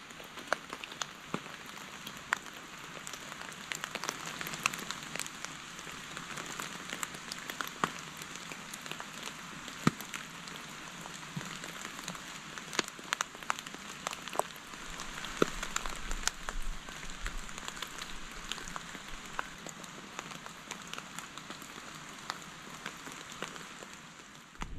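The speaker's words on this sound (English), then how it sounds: "Last night, it rained for a few hours, mainly in the morning, late morning" Rain patters steadily on a lightweight Snugpak Ionosphere tent, with dense drops tapping the fabric close by in an even wash of sound that lasts throughout, and no voices.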